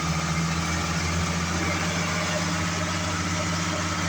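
A tractor engine idles steadily while powering a grain auger, with a continuous low rumbling drone and vibration, loud and close with no talking.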